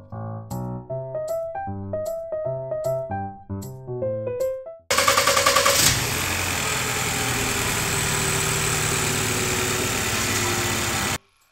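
After a short melodic musical intro, a car engine idles steadily and closely after replacement of its fuel high-pressure pump assembly, holding an even, continuous drone until it cuts off at the end.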